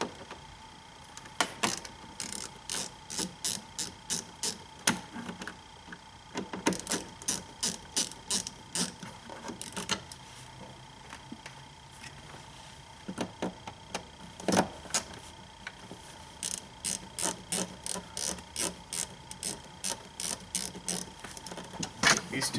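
Ratcheting clicks in rapid bursts as T20 Torx screws are backed out of a BMW instrument cluster, rhythmic repeated trains of sharp close-up clicks with short pauses between runs.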